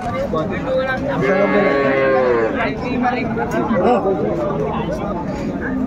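A cow lets out a long, loud low moo at a busy rural cattle market in Ambari, Dinajpur, with a crowd chattering constantly around it.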